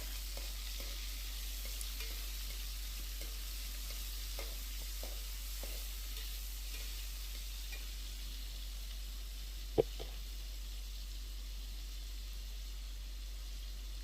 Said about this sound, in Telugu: ఇందులో కొంచెం పసుపు వేసుకొని ఆయించుకుంటాం, ఆ నీచు వాసన అంతా కూడా పోవడానికి.